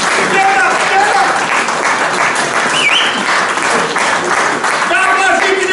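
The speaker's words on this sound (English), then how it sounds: "Give him a big applause." Steady, dense audience applause for a man being honored at a gathering, loud and sustained throughout with a few voices and cheers mixed in.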